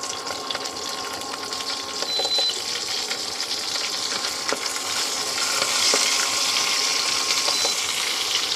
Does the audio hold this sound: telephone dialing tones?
no